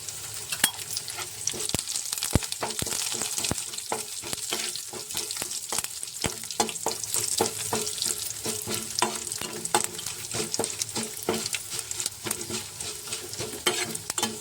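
Curry leaves, dried red chillies and tempering spices crackle and sizzle steadily in hot oil for a chutney, a dense continuous frying hiss broken by sharp pops and spatters throughout.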